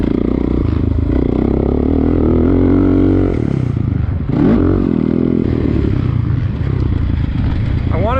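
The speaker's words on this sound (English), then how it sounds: "having some fun on a dirt bike while we can. Oh, the Honda feels so good" A Honda dirt bike engine runs loud and steady beneath the rider while on the move, its drone shifting in pitch as the throttle rises and falls, with wind rumble and a brief scrape midway.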